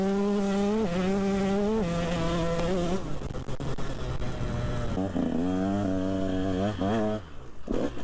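A 125 SX dirt bike engine revs and shifts while being ridden, its buzzing two-stroke pitch rising and falling loud and close, with voices talking over it in places.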